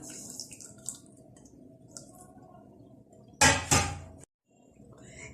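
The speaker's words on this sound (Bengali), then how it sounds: "আর এটার মধ্যে আমি দিচ্ছি সামান্য একটু পানি" A little water splashes into a pan holding two tablespoons of sugar for caramel, making two short, loud pours in a quiet kitchen with faint clinks before them.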